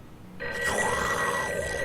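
A telephone, likely a public phone, begins ringing with a steady electronic tone that starts abruptly and holds, fairly clear over a quiet background.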